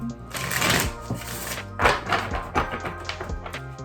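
Quick papery riffles and soft taps of tarot cards being shuffled, in a few bursts with brief pauses between, fairly close.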